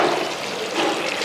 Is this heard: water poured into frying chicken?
yes